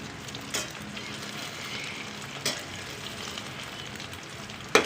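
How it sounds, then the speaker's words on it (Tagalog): Steady sizzling of food frying in a pan, with a few sharp clatters or pops breaking through the continuous hiss. "Prito natin."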